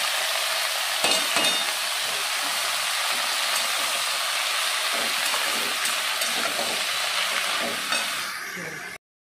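Onions sizzle and fry in a pan on a home stove, a loud close continuous crackle with occasional stirring scrapes, no talk over it.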